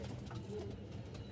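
A pair of pigeons in a loft, heard as soft, quiet cooing, a faint low burbling call over a little background hum.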